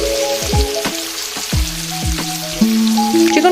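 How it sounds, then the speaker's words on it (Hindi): Chicken pieces fry in oil with garlic paste, a steady crackling sizzle close by, with sharp pops and scattered spatters throughout and no talking. "चिकन को गार्लिक पेस्ट और ऑयल में अच्छे से फ्राई कर देना"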